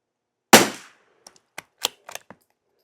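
A rifle fires CCI SV unsorted, unlubed rimfire rounds outdoors in a valley: one sharp loud crack with a brief tail, followed by several faint clicks and small knocks.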